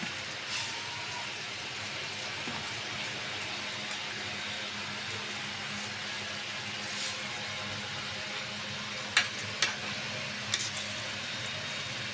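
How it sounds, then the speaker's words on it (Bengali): Eggplant and koi fish simmer in a vigorously boiling curry, giving a steady hiss of bubbling and sizzling throughout, with a few small clinks near the end. "তরকারি জোর ফুটে গেছে। এখন আমি বেগুন মাছগুলি দিয়ে দিব।"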